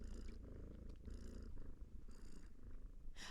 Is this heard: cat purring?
yes